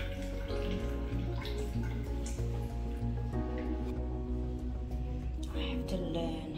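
Shower water running and dripping in a bathroom in Phuket, Thailand, a steady wash of water with scattered drips and squishing throughout, alongside tonal background sounds and no clear talk.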